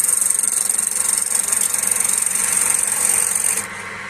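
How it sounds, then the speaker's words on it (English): A wet old log spins on a wood lathe and is cut with a spanner instead of a turning tool, producing a loud, steady, hissing scrape. The sound cuts off abruptly near the end and no one talks. "So, I mean, really, Tom, you could turn with anything, well, literally anything, can't you? Well, this is a spanner"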